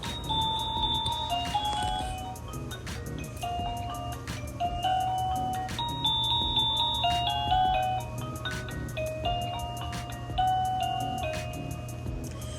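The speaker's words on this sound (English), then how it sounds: "I did get my doorbell to sync up because I would change the song" A doorbell chime plays a long, repeating song melody of clear bell-like tones over a steady low hum, continuing throughout without any talking.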